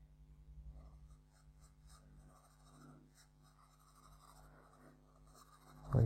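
Charcoal stick scratching across paper while a quick portrait is drawn, soft uneven strokes close up and quiet, ending in a louder rub.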